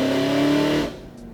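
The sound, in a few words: supercharged Pontiac G8 on E85 engine doing a partial pull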